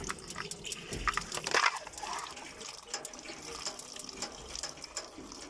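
Water runs steadily through an instant gas geyser that will not ignite, a faint continuous hiss and trickle with a brief louder splash near the start.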